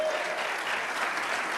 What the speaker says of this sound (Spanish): Dale un fuerte aplauso a Jesucristo.